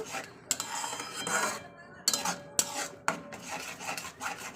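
Peas being stirred and sautéed with spices in a pan in a home kitchen, with scraping and rasping strokes and a few sharp metallic clinks of the spatula against the pan.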